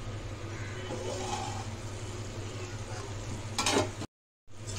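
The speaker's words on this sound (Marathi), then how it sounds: "शेंग आपली तेलात थोडी फ्राय झालेली आहे" Drumstick pods fry in oil for a potato and drumstick curry, making a quiet, steady sizzle. A brief clatter sounds near the end, followed by a short dropout.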